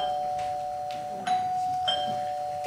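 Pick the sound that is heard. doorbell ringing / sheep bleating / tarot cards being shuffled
doorbell ringing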